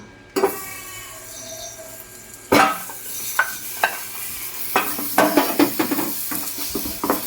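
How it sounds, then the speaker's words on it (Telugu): Jaggery is stirred in a hot pan after coconut has been roasted in it, with a soft sizzle and a series of scraping, clinking spoon strokes against the metal, near and moderately loud. "ఇప్పుడు ఇందులోనే బెల్లం వేసుకుందాం"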